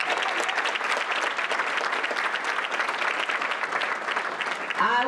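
Sustained applause from a large audience at a community breakfast event, a steady, full wash of clapping that holds even in loudness, with a voice starting up right at the end.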